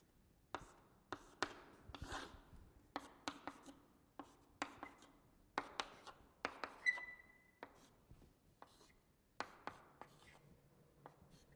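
Chemistry notes being written by hand with a pen, sounding as quick, sharp scratching strokes in irregular bursts with short pauses, close and fairly quiet, with no talking.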